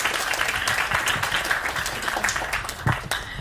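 Audience applause in a university hall for student council leaders from Korean universities, a steady wash of clapping hands sustained at moderate loudness for the whole stretch, with no voices standing out.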